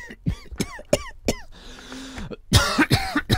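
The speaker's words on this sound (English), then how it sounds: "that's a perfect moment to get a coughing fit." A person coughs repeatedly in a rapid fit, sharp and close, with a short pause partway through before a louder burst of coughs resumes.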